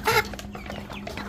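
Farmyard chickens cluck close by on a rural Vietnamese farm, a louder squawk at the start followed by a string of softer clucks, with no talking.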